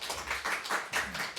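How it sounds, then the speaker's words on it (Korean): A church congregation at a Sunday worship service claps to welcome a guest pastor, with a brief run of fairly close, rhythmic hand claps coming in uneven bursts. "우리 박수로 모실까요?"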